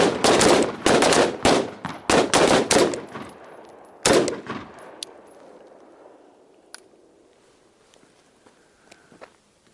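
Handgun shots fired in rapid groups at a night defensive shooting drill, several sharp close reports in quick bursts during the first four seconds, then quiet range ambience with faint clicks and small knocks.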